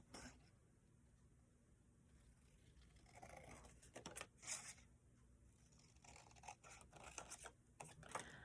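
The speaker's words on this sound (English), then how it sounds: "let me just cut apart the ones that I'm interested in" Paper being cut apart with scissors while picking out small printed pieces, a coffee shop and coffee cup among them, for journal making: quiet, close snips and rustling scrapes that grow busier toward the end, with no talking.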